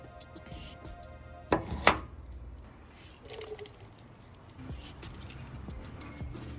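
Fresh limes are squeezed by hand in a kitchen, giving a couple of sharp, close squishing crunches followed by soft wet drips and faint rustling.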